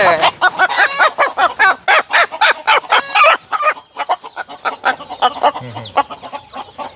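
Roosters kept in boxes on a small free-range country chicken farm crow and cluck in a dense run of calls, loud and near, with other fowl chattering close by.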